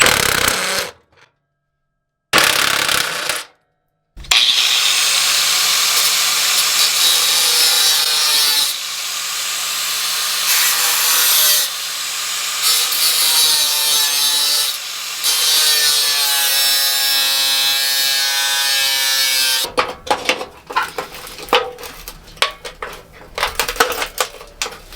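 Cutting through a seized bolt on a Toyota Cressida with a power tool, a harsh, loud, steady grinding that stops twice early on and then runs for about fifteen seconds before breaking into choppy bursts.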